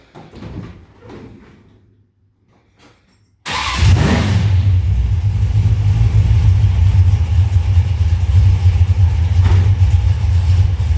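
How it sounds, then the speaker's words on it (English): After a few quiet seconds, a completely cold car engine turns over and catches, then settles into a steady, loud, rough idle without a choke that runs without a break. "It is idling on its own without a choke."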